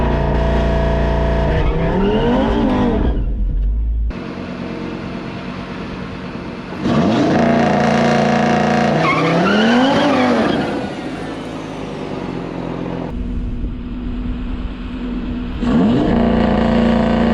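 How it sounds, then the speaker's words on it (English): Audi RS3 doing a one-tire burnout before a limited-slip differential install: loud engine revving in repeated bursts with rising and falling pitch, tire squeal and skidding mixed in, alone without talk. "I'm gonna try that burnout and try to get that one tire fire for you guys."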